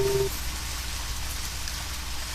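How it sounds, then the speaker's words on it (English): Rain falling outside a police station in Deadly Premonition, a steady dense patter of drops that continues evenly throughout, preceded by a brief tonal blip at the start. "it just started raining."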